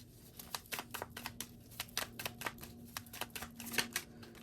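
Tarot cards being shuffled and drawn from a deck during a reading, giving a run of quick, close crisp flicks and snaps with a faint steady hum underneath.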